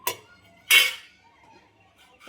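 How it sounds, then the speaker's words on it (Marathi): A plate is set upside down inside a pressure cooker; two sharp clinks ring close by, followed by a quieter knock at the end. "कुकर लावता वेळेस हे प्लेट अशी उलटी ठेवायची आहे"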